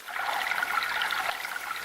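Cold water running steadily from a bathroom tap in a drama scene, a continuous close trickling hiss heard alone with no voices.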